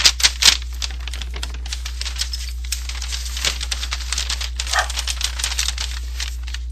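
A dog gives a few sharp barks at the start, followed by a stretch of light clicking and pattering noises nearby.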